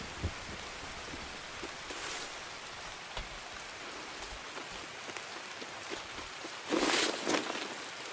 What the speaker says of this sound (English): It's pouring ass rain.